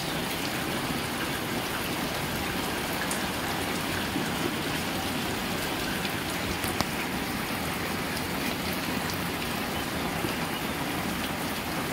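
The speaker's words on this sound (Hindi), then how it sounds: "बहुत जोर आज वर्षा हो" Heavy rain pours down steadily in a village, a dense, continuous hiss and patter of drops on surfaces, loud and close throughout with no voices.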